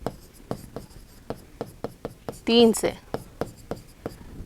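Marker or chalk writing on a board during a maths lesson, a regular series of short sharp taps and strokes about every half second, close by, with someone briefly speaking midway.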